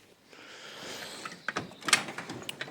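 A tool chest drawer slides open with a rising rolling rush, followed by a few sharp clicks and knocks as it stops, close by and fairly quiet with no talking.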